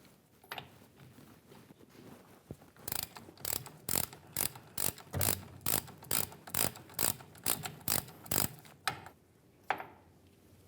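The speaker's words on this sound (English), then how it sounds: "Typically, you'll be using a 3/8 drive ratchet for this." A 3/8-drive ratchet with a 22 mm socket working a rear differential fill plug on a 1998-2011 Ford Ranger, about a dozen loud, evenly paced clicking bursts close up, ending in a final rattle.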